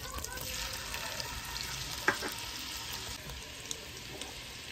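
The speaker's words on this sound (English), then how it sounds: "now that it's sizzling, I'm gonna add some garlic" Garlic dropped into hot butter and oil in a pan, giving a steady close sizzle and frying hiss with a couple of sharp clicks from a utensil.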